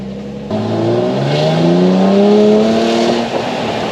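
A convertible car's engine revs with the roof down, the note rising and falling through several strong sweeps that grow louder toward the middle and ease off near the end, heard up close with no talking.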